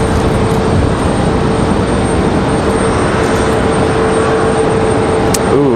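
An Air Wisconsin CRJ-200 regional jet passes at Raleigh-Durham airport, its loud, steady engine roar and whine continuous throughout, heard alone without voices.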